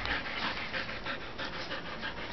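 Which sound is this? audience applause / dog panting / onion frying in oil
dog panting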